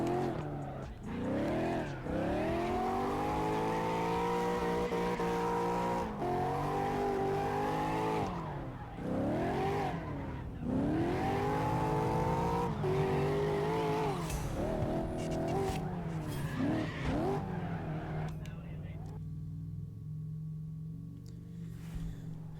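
In CarX Drift Racing Online, a drifting car's engine revs rise and fall in repeated sweeping surges while tires squeal and skid, loud and continuous before easing into a quieter idle near the end.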